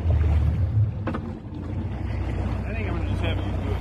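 Fishing boat outboard motor shifted into forward gear, a steady low engine hum and churn of water near and constant throughout, with a faint clunk partway through.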